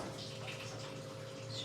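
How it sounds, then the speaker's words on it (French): Fresh water runs from a tap in a steady, even hiss with a faint low hum underneath, continuous and close for the whole short stretch. "eau fraîche au robinet."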